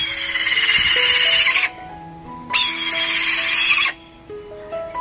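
A caged falcon gives long, harsh screeching calls, two loud sustained bursts separated by a pause, ringing out close over a quiet background with faint tonal hum.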